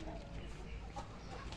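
Free-range hens cluck softly and steadily while eating termites, over a busy farmyard background with some low rumble, no clear voices standing out.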